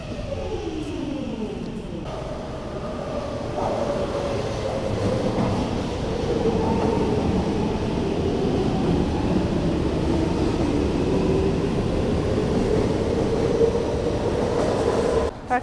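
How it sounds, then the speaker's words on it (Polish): Metro train on the Helsinki metro running steadily, a continuous loud rumble of wheels on rails with a rising and falling whine of the motors throughout, heard from on board with no talk. "Takie metro ma Finlandia,"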